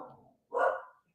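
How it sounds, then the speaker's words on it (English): Dogs bark indoors in two short bursts, the second louder and closer, with a brief silence between them and nothing else heard. "my dogs have decided to bark"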